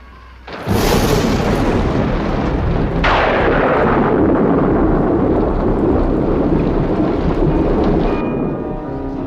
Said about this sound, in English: The storm's really building up.